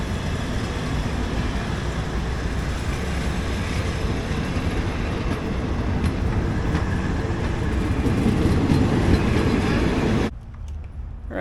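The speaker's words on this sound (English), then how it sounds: "So we took the train from Thonburi up here to Kanchanaburi." A passenger train running from Thonburi to Kanchanaburi gives a steady, loud rumble and rattle of rolling wheels that holds for about ten seconds before cutting off to a quieter hum.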